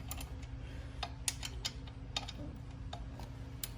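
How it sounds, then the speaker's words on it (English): A 12 mm socket wrench ratchets on the muffler bolts of a Venom Motorsports x22GT 250cc motorcycle, giving sparse sharp metallic clicks in short irregular bursts, close up over a steady low hum. "I'm going to take my 12 and remove this bolt and this bolt with my socket."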